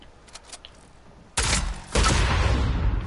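Rapid bursts of gunfire in a Fortnite match, loud and close, break in after a quiet stretch and continue as dense, crackling volleys until the end.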